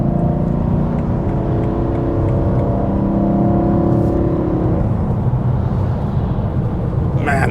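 A BMW E92 M3 with a freshly built, broken-in engine accelerates smoothly on the Autobahn, a loud steady engine drone with rising harmonic tones for about five seconds, then a broad rushing road and wind roar.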